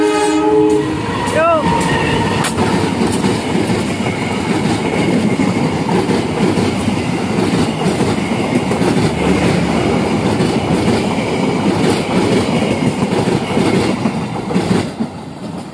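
A passenger train rumbles loudly past close by at Cibatu, Garut, wheels clattering rhythmically, with a horn sounding near the beginning.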